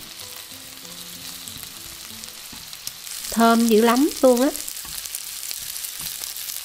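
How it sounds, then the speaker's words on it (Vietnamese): Homemade Vietnamese sausage frying in a little oil in a pan, a steady soft sizzle running throughout, with a brief burst of speech partway through. "Mình thử ra mình cho vô chảo chút xíu dầu. Rồi mình sẽ chiên cho đến khi nâu vàng và lật trở."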